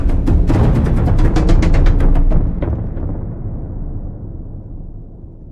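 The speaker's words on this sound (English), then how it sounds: "this whisper, and then this cluster of synths and ethnic and orchestral drums played together, stacked on top of each other" A whisper, then a stacked cluster of synths with ethnic and orchestral drums, a dense loud booming hit with rapid drum strikes that rings out and slowly fades.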